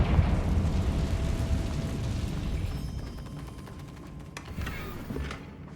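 A fire spell blast in the Hogwarts Legacy video game, a loud rumbling boom that slowly fades out, with crackling debris and a few small pops trailing off near the end.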